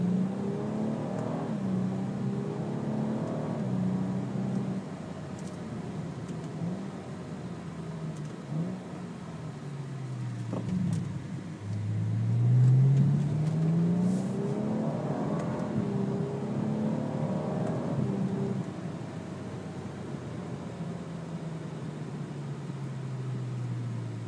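A 2011 BMW 135i with a seven-speed DSG gearbox and full Agency Power exhaust accelerates through quick gear changes, the engine note rising and falling as a steady drone heard from inside the car.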